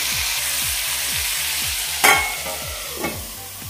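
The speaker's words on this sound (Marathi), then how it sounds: "झाकण ठेवूया आणि 5 ते 7 मिनिटं हे असंच आपण वाफवून घेऊयात कारली." Sliced bitter gourd cooks in a pan with a continuous sizzle and a steady rhythmic patter, broken by two brief clatters near the end.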